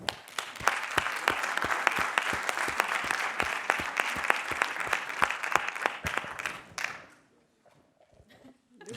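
An audience claps for the participants at the CityLab 2016 project presentations. The applause is loud and steady for about seven seconds, with a few sharp, prominent claps on top, then it cuts off into near quiet with faint movement.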